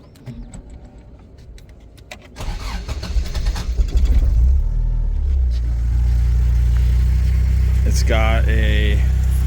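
A 1980s Toyota Corolla AE71 fitted with a JDM header cranks over and catches, then settles into a loud, rough idle with a rising rev, close by and alone without talk.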